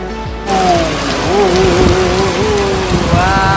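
Heavy rain pours at night in a steady, dense hiss, with a few faint tonal sounds drifting through in the background.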